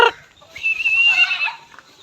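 Chickens being fed, with a brief sharp call, then a drawn-out clucking squawk from a nearby hen and a few softer clucks trailing off.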